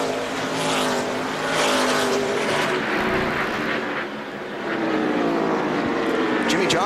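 NASCAR stock cars racing at Martinsville during the 2003 Subway 500, a loud continuous engine roar with rising and falling pitch as cars pass, race commentary talking over it throughout.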